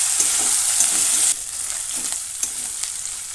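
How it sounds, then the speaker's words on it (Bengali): Ginger, garlic and green chilli paste frying in hot oil in a pan, a steady close sizzle that drops in level partway through as the paste settles, with faint stirring clicks. "এবার দিয়ে দিচ্ছি আদা, রসুন আর কাঁচা লঙ্কা একসাথে বাটা। এটা করে ভালো করে ভেজে নেব।"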